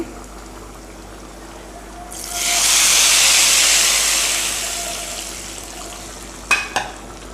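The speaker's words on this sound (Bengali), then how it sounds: "আমি পেঁয়াজ রসুন ভেজে নিয়েছি বাগার দেওয়ার জন্য বাগার দিয়ে দিচ্ছি" Fried onion and garlic tempering poured into nearly cooked lentil dal with shapla: a sudden loud hissing burst swells and slowly fades, followed by two sharp clinks near the end.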